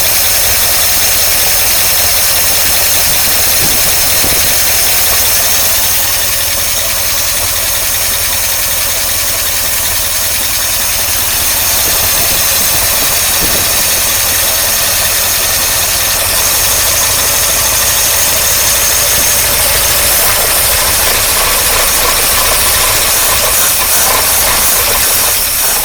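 A 1953 Oldsmobile Rocket Super 88 barn-find engine idles continuously up close, a loud steady rumble with hissy overtones and no breaks, and no talking.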